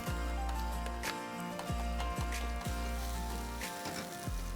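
Red onion and garlic fry in oil in a pan, giving a steady loud sizzle with a few sharp clicks and knocks of a utensil against the pan.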